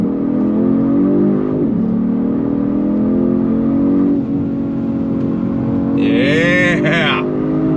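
A 2023 Genesis G70 performance sedan accelerating hard at full throttle, the engine drone rising steadily in pitch with gear changes, heard loud from inside the cabin, with brief voices and a sharp squeal-like sound near the end.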